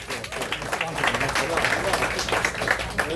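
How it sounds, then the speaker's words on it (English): Applause from a crowd swells and holds, steady clapping with talk and voices mixed in underneath. "Let's give him a big round of applause."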